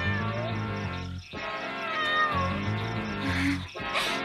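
A cat meows repeatedly in drawn-out, wavering cries with short pauses between them, close and fairly clear over faint background sound.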